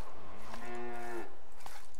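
A single cow moos once in the video game Stronghold HD, a clear, close, drawn-out low call lasting about half a second, with quiet game ambience around it and no talk.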